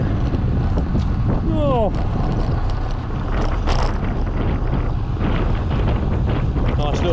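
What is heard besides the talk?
wind blowing against cyclist and microphone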